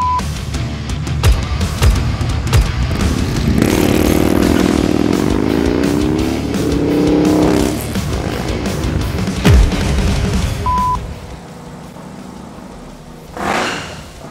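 The 143 cubic inch Harley-Davidson M8 engine on a performance bagger motorcycle rumbles loud and close, revving up and down before fading, with a brief later surge; no speech is heard.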